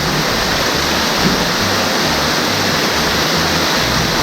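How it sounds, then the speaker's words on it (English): Gorge Creek waterfall in the North Cascades pours in a steady, loud, close roar of broadband rushing water, unbroken from start to end with no voices. "So I just found another waterfall."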